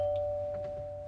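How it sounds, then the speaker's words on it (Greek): A doorbell gives a single steady electronic tone that holds briefly in a quiet room with faint background hum. "Κουδούνι."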